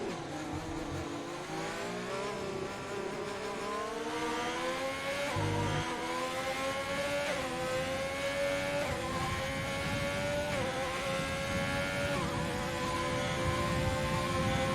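Formula race car engines in a racing video game at the Chinese Grand Prix whine and rise through the gears with repeated upshifts, steady and fairly faint, no talk.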